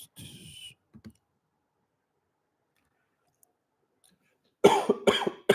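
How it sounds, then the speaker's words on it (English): Two bursts of coughing, one near the start and a louder, closer fit at the end, with silence in between. "Sorry about coughing."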